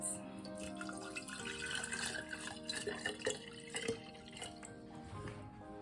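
Filtered water poured into containers holding elderberry plant cuttings, a quiet continuous trickle and splash running through the whole stretch, with no speech.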